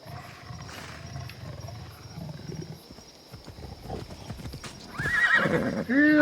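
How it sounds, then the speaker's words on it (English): A horse in the game Assassin's Creed Odyssey clip-clops along, its hooves thudding under a low rumble, then lets out a loud, close whinny near the end. "Here, horsey, horsey."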